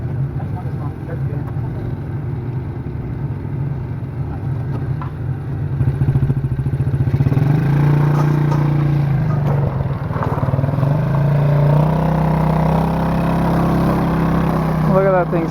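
A small quad bike engine with a big block idles and warms up nearby, a steady low clattering drone that grows louder and rougher partway through as the revs rise.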